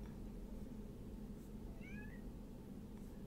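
A pet cat meows once, a short faint rising-and-falling call set against a low steady room hum.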